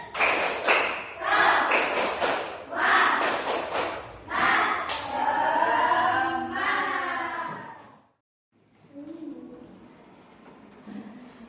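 A classroom group claps a quick rhythmic pattern of sharp bursts, then voices chant together, followed by a short pause and quieter talk.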